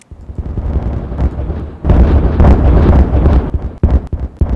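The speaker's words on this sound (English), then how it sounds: "that's an immense amount of dynamite. There's going to be a big explosion" A big dynamite explosion goes off in the video game Timberborn, a loud, rumbling blast whose roar swells after a second and then breaks into a few sharper bangs and debris cracks.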